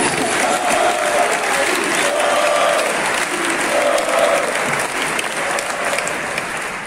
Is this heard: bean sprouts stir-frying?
no